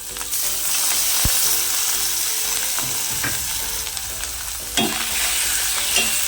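Continuous sizzling of tomato paste frying in a hot pan, with a few sharp scrapes and taps of a spatula; no voices.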